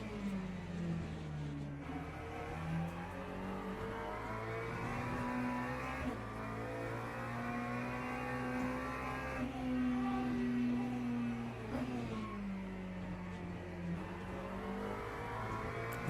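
A V12 race car engine in the Le Mans Ultimate sim at Sebring, a steady droning roar with rising and falling pitch as it accelerates and shifts gears, heard alone at moderate level with no voices.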